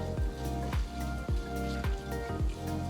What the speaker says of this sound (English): First I'm just going to saute these ingredients, keeping the flame on medium-low